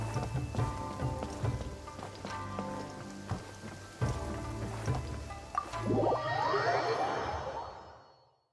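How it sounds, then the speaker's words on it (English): Steady rain downpour in the video game Genshin Impact, a dense hiss of falling water with occasional sharper drop hits, continuous throughout and fading out at the end under faint game music. "Taking a stroll in the middle of a downpour certainly rouses the spirit."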